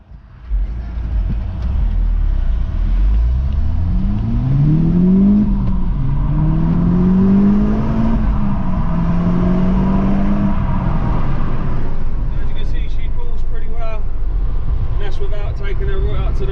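Audi S3 four-wheel-drive stage 1 engine revving hard, pitch sweeping up and down in repeated climbs without reaching the red line, steady and close, with a few clicks near the end.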